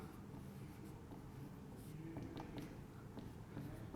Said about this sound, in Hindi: तो मैं डेफिनेशन लिखता हूँ यहाँ